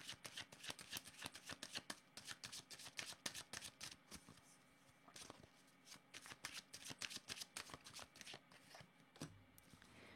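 Tarot cards being shuffled by hand in rapid riffling bursts, a quick run of crisp flutters and soft slaps that pauses briefly and then resumes, close and quiet with no speech.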